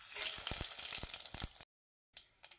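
Tempering seeds of chana dal, urad dal, cumin and mustard crackle and spit in hot oil, a close, steady sizzle with sharp pops, then a brief silence before a few more crackles.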